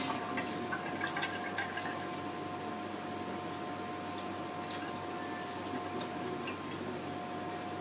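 Water dripping and trickling from a wrung-out cloth, a soft scatter of small drips and splashes over a quiet background, with no talking.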